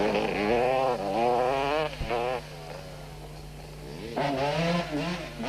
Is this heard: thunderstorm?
no